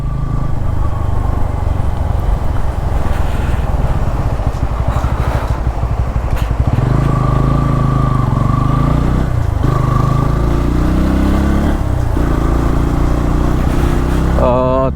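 Motorcycle ride on a highway in West Bengal near the Baharampur–Farakka toll plaza, a TVS Apache N160 engine droning steadily and loudly for the whole stretch with heavy wind rush, engine note shifting partway through.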